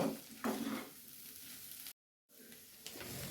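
Spices with kasuri methi sizzle steadily in a hot pan, a close, continuous frying hiss with light stirring scrapes, broken by a short stretch of total silence before the sizzling resumes.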